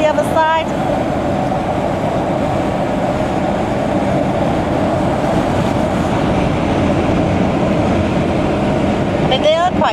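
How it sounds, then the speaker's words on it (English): A steady, loud roar of a road train truck rushing past on a Western Australian highway, heard from inside a moving vehicle with constant road noise. "Here comes another road train the other side."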